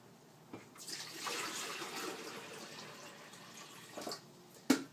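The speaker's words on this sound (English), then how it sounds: "Open up the back where you pour the water in." Water is poured into the rear reservoir of a coffee maker, a steady trickle lasting a few seconds and then tapering off, bracketed by a few sharp plastic clicks, with nobody speaking.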